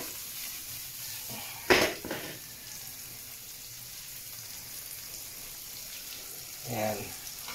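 Onions sautéing in a pan for sweet and sour fish fillet give a steady, soft sizzle, with a couple of brief clattering stirs near the start and again toward the end.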